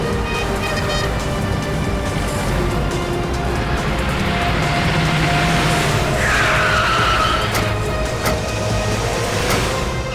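A car skids hard while swinging through a U-turn during a police chase, a loud continuous tire squeal over engine roar that rises to a sharp screech midway and holds throughout.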